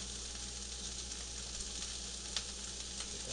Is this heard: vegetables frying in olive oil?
yes